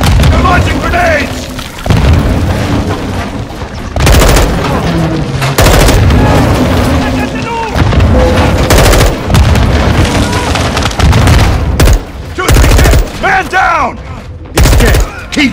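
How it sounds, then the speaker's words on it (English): Grenade blasts and gunfire in the Modern Warfare 2 campaign ring out as repeated loud booms and bursts of shots over continuous battlefield noise, with urgent shouted voices between them. "Incoming! Take cover! They're launching grenades!"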